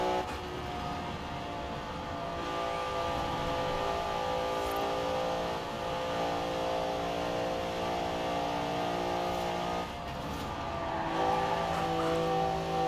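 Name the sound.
Rossion Q1 car engine in Forza Horizon 4 video game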